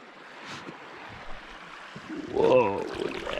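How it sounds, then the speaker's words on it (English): Water rushes through a shallow channel in a coastal passage, a soft continuous wash that swells louder near the end, with brief exclamations over it. "Water rushing."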